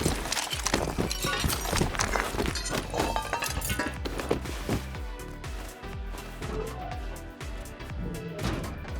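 Footsteps from the game Rust thud in a steady, dense rhythm of heavy clopping steps, loud and continuous, amid a busy layer of game noise.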